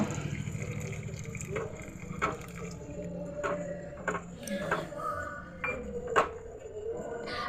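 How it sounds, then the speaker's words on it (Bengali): A mixture is poured into boiling mixed vegetable soup while a spatula keeps stirring. Low bubbling and liquid churning run throughout, broken by scattered scrapes and clinks from the spatula in the pot. "এই সময় এখানে দিয়ে দেব মিশ্রণটা আর মিশ্রণটা এক হাতে দেব আর এক হাতে খুন্তি দিয়ে অনবরত নেড়ে যাব"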